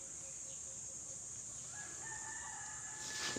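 Free-range chickens being fed outdoors, with a rooster crowing in the distance amid faint background clucking and a steady noisy ambience.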